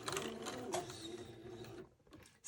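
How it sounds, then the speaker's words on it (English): A sewing machine stitches a seam along the side of a baby bubble garment sewn in blue thread, a steady close mechanical whir with rhythmic needle clatter that cuts off abruptly near the end. "So I'm going to sew another 1/8 of an inch"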